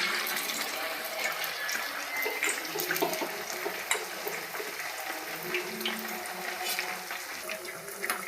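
Batter-coated bread pakoda slices frying in hot oil give off a steady, moderately loud hiss with scattered small crackles and pops throughout.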